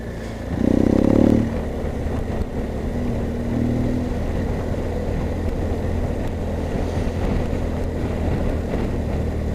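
A motorbike engine drones steadily while riding along a road with traffic, a continuous low rumble mixed with wind noise, with a brief louder surge near the start.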